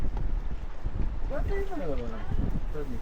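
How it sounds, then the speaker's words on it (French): Strong wind roars steadily into the microphone in Greece, with a low rumble throughout and people talking faintly underneath. "le vent ne s'est pas calmé"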